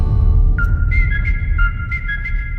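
Human whistling in a duel between two people: a string of short, high, loud whistled notes heard over a steady low rumble.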